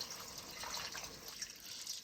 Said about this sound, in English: I'm going to now put in water enough to cook it.